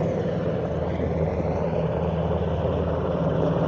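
A vintage aircraft passes over a historic airshow with a continuous, fairly loud engine drone and low propeller-like rumble that holds steady and swells slightly as it flies past.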